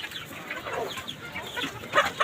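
Silkie chickens on a small farm give soft, scattered clucks, a few close murmuring calls and two sharper notes near the end, fairly quiet with no talk.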